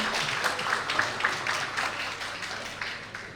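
Audience applauding for the organizing committee at an evening Buddhist Dhamma youth event, a steady wash of clapping held at even loudness throughout with a faint voice or two mixed in.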